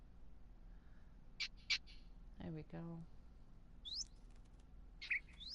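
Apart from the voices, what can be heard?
birds chirping and flapping in Minecraft video game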